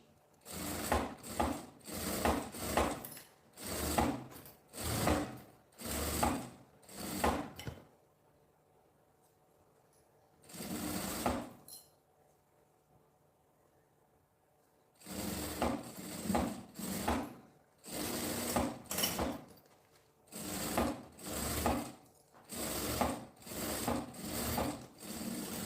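A sewing machine stitches the lining of a suitcase's bellows in short repeated bursts of rapid clatter, pausing several times with near silence between runs, one long quiet gap midway, no talking.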